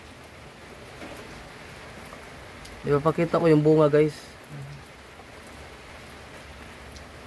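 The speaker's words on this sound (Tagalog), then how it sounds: "Naabutan ako ng ulan." Steady light rain hisses throughout as a soft, even wash, with someone speaking briefly in the middle over it.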